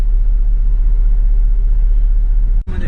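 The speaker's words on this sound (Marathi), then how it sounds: "आमची गाडी निघालेली आहे दुसऱ्या वॅगनरच्या शोधामध्ये." A car on the move, heard from close by as a steady, loud low engine rumble that holds throughout and shifts abruptly near the end.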